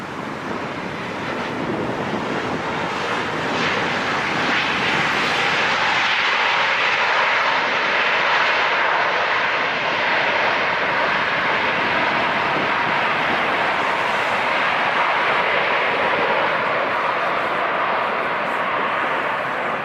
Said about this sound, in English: They're 777, there you go. Took off from the south side.